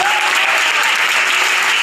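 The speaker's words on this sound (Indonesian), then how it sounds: "Berikan tepuk tangan bagi Yesus." Loud, dense applause from a large church congregation during a sermon fills the short moment, even and unbroken throughout.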